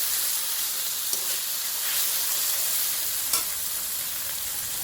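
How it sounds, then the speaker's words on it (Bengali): Chicken samosa filling fries in a pan with a steady hissing sizzle, and a couple of soft stirring scrapes stand out close up. "এখন সবগুলোকে খুব সুন্দর করে ভেজে নিতে হবে"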